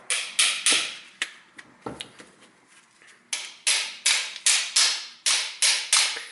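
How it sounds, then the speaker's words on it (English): Metal hammer strikes on a stuck hinge part of a BMW rear trunk door, touring model, ring out loud and close: a few scattered blows, then a brisk rhythmic run of about nine sharp hits. "I need to little bit hammer that part that it moves in here"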